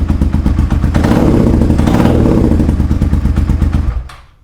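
A Suzuki SV650 motorcycle with a new unbaffled exhaust runs loud and close, its V-twin idle rumbling in a fast uneven pulse, swelling briefly and then cutting off abruptly near the end.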